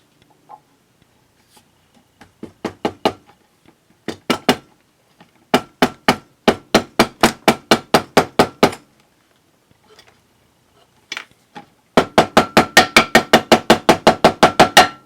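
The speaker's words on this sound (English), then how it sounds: "I'm just going to tap that into my cover here first before I put it on the bike" Inside a workshop, a hammer taps a new kickstart seal into a 1975 Suzuki GT750 engine cover, sounding as close, sharp metallic strikes in several rapid runs separated by short pauses, with a longer, faster burst at the end.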